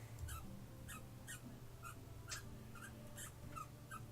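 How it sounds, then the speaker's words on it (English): A puppy plays and yips, giving short high cries roughly every half second over a steady low background hum, fairly faint. "Sorry, puppy's playing."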